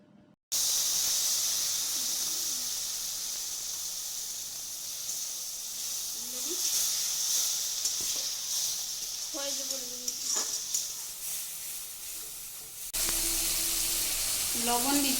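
Spices and softened tomato sizzle hard in oil with a steady, close hiss and faint clinks. Near the end the sizzle shifts sharply as turmeric and chili water is poured into the pan.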